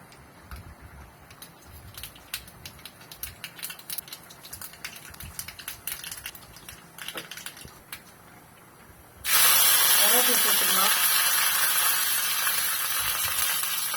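Half a spoon of mustard seeds hits hot oil for tempering: after several seconds of scattered light pops and ticks, a sudden loud, dense hissing sizzle starts and continues steadily to the end.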